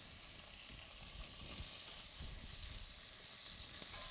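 Chopped onion, carrots, celery and thyme sizzle softly in a pan, a steady, fairly quiet frying hiss with no voices.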